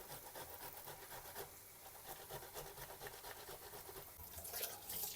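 Tomatoes rubbed against a coarse kitchen grater for borscht, a close, rhythmic wet rasping of quick repeated strokes that continues steadily and grows slightly louder near the end.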